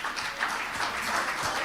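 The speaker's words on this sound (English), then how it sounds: "Give him a round of applause." Audience applause at a football cup media briefing, a steady wash of many hands clapping at close range, continuous and fairly loud for the whole short stretch, with no speech on top.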